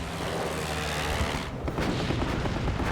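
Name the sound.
anti-aircraft flak gunfire from the battleship Bismarck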